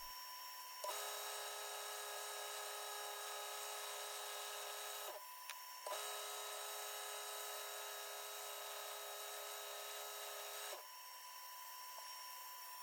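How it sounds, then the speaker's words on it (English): A woodturning piece spinning on the lathe while being sanded with sandpaper gives a steady high whine with a faint abrasive hiss, pausing once briefly before resuming, then the motor sound drops away near the end. "so a little bit of work with the sandpaper"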